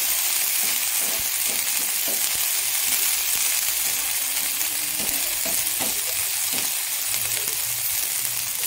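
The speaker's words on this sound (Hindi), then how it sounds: "फ्राई करेंगे एक मिनट के लिए नीचे।" Spiced mixture for Bihari-style aloo paratha filling fries in a pan, a steady bright sizzle with occasional clinks of a spoon stirring against the metal, close and continuous.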